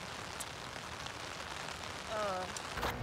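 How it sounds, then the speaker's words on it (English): Steady rain pattering on surfaces outdoors in Texas, a soft continuous hiss with a faint voice briefly rising near the end. "Oh my gosh, it's raining."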